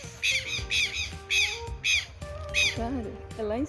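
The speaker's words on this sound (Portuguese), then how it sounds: "Olha o barulho dos pássaros." Birds squawking in Parque Villa-Lobos, a park in Alto de Pinheiro, São Paulo: a series of loud, harsh calls repeating in quick rhythmic bursts close by, followed by warbling cries, with people talking quietly underneath.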